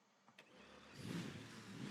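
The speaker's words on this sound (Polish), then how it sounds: "Silnik działa. Normalnie można sobie odjechać." A car engine catches after a couple of faint clicks and settles into a running rumble that swells slightly, moderately close and otherwise alone.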